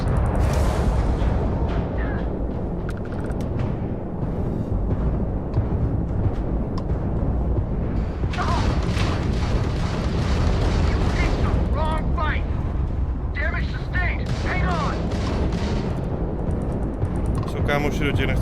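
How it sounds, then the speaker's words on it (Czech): Gunfire and explosions in the video game Starfield, a dense continuous barrage of booms and shots throughout, with people talking over the combat. "Ale oni do nás docela střílí"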